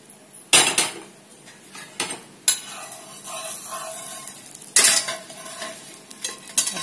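Metal utensil scraping and clanking against a pan as cooked food is lifted onto a plate, several loud separate knocks and scrapes over a faint sizzle, close and without talk.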